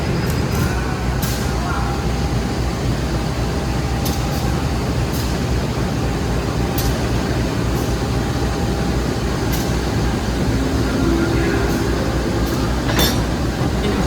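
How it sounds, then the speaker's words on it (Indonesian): A Bengawan passenger train with a CC 201 diesel locomotive, heard as a steady low rumble with occasional clanks and a short hiss, continuous and fairly loud, with some faint voices nearby. "Ini dia lokomotif dinasnya, baru aja disambung"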